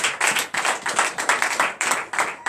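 A church congregation claps in praise during a night deliverance service, with brisk, steady rhythmic handclaps filling the room continuously.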